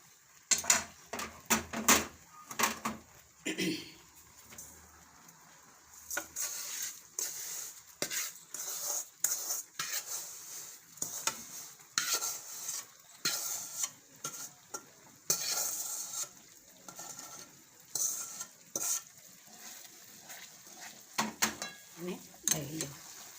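A semolina and mava mixture stirred in a pan, with repeated quick scraping and clattering strokes of the spoon against the metal over a soft background, in uneven bursts throughout.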